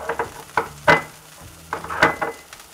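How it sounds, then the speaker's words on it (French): Butter melts and foams in a hot pan in a French kitchen, with soft sizzling broken by several sharp utensil clinks and scrapes against the pan. "Mon beurre étant fondu, ça mousse, donc c'est bon."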